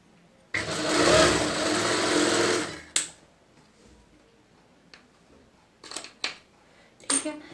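A sewing machine runs in one loud, continuous stretch of about two seconds while stitching a round neckline, followed by a few sharp clicks and handling taps; close, no talk.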